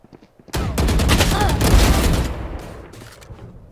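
Rapid bursts of gunfire ring out in a competitive video game shooter, a dense loud volley starting abruptly and fading into a tail, with no talking over it.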